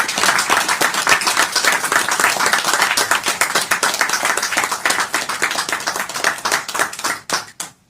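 Dense, loud applause from a crowd giving a standing ovation to an outgoing director general at a service handover ceremony, sustained clapping that thins into scattered claps near the end.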